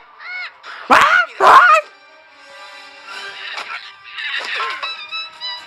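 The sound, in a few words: bird cawing in an animated video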